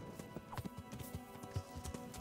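Horse hooves clip-clop and gallop in the Kingdom Come: Deliverance video game, a steady uneven run of close thuds over a busy game soundscape, with a brief whinny-like tone and faint voices underneath.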